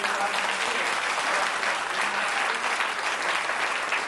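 A large crowd at a 1994 community convention in Ahmedabad claps loudly and continuously, a dense, even roar of applause with no pauses.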